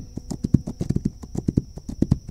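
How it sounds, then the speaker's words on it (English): Horse hooves clip-clop in a steady, loud, close rhythm of many sharp strikes in the video game This Land is My Land, with a thin steady tone running beneath and no talk over it. "the horse is so loud"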